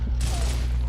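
A turret in Gears of War fires a short, rapid burst, loud and close, with a faint voice in the background.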